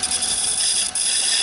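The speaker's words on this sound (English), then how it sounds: "Trying a square scraper." A square scraper cuts wood on a turning lathe, producing a continuous close, loud hissing scrape that stays even for a moment with one brief dip.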